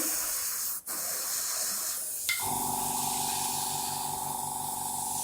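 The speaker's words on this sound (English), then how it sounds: "that sound you can hear, that's the airbrush building the air pressure back up" A steady hiss of air starts up and settles into a continuous mechanical hum as a small airbrush compressor builds pressure while decorating a cake, with a brief click just before.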